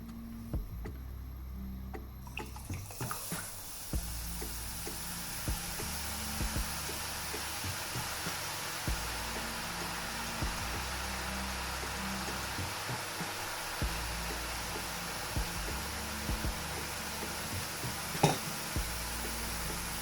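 After a quiet start, a steady, loud hiss of yellow boondi (sweet gram-flour droplets) frying in hot oil begins and continues, with faint ticks underneath.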